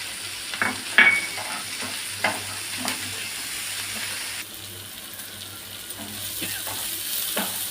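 Tomatoes frying with onions for an egg gravy, a steady sizzle broken up by repeated scraping stirs and knocks of a spoon against the pan, the hiss shifting in tone midway; no talking.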